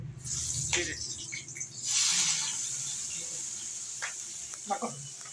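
Chopped onion hits hot oil in a home kitchen, giving bursts of hissing sizzle that flare up and settle into a softer crackle, with scattered stirring clatter and brief voices around it.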